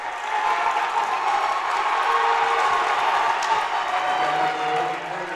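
At a high school boys basketball game, a gym crowd cheers and applauds steadily after a foul on a rebound. The roar is loud and sustained, with scattered voices mixed in throughout.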